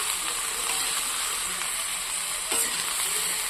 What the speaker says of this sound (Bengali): এর মধ্যে এই গেঁড়িটাও তুলে দেবো, সব কটাই দিয়ে দিলাম, দিয়ে এটাকে সুন্দর করে ভাজবো